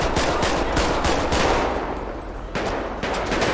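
Gunfire in a GTA V police mod, rapid bursts of loud, close automatic shots in quick succession, briefly thinning before a few more sharp reports.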